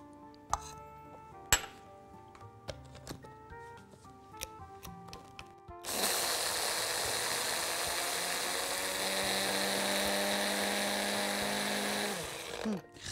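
An electric grinder runs loudly for several seconds, churning nigella seed paste with added oil, after a stretch of scattered clicks and knocks before the motor starts and then stops.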